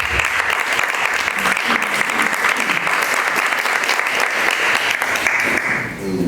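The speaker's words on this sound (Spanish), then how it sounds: "Un aplauso." A room full of people applauds steadily and loudly at a book presentation, with dense clapping that fades slightly at the end.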